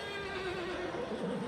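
Horses whinny as a sound effect in a dramatised story scene of a crowded suffragette protest, one loud, close neigh with a wavering pitch and faint hoof noise beneath it.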